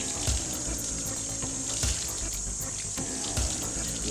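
Tap water runs steadily into a sink while an oil-finish brush is rinsed under it, giving a continuous close splashing rush with a few brief slaps as the brush moves through the stream.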